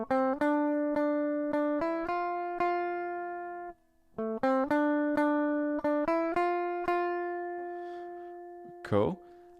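A film theme picked as single notes on guitar, a clean melodic run with a short pause midway, ending in a brief scraping noise.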